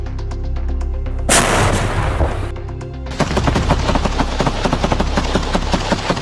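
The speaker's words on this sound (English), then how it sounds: "Armored vehicles immediately began suppressing Russian positions with machine gun and automatic grenade launcher fire" Heavy automatic fire from armored vehicles, machine guns and automatic grenade launchers, suppressing positions during an assault near Stepnohirsk in Zaporizhzhia, Ukraine: dense rapid bursts, a loud blast-like surge, then steady rhythmic pounding shots.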